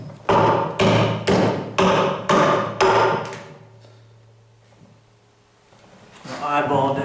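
An axe chops a slot into wood for a bow handle, giving six loud, evenly spaced strikes. A quieter pause follows, and then someone speaks.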